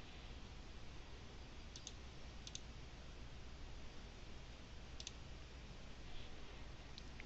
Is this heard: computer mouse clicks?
yes